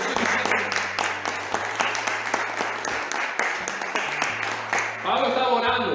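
A church congregation applauds during a sermon, a steady wash of clapping running the whole time with sustained low musical tones underneath.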